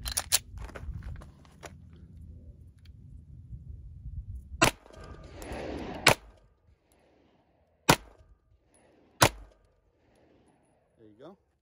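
An S&W M&P M2.0 pistol fitted with an add-on compensator fires four sharp, loud shots spaced a second or more apart outdoors, with some rustling and faint voices between them.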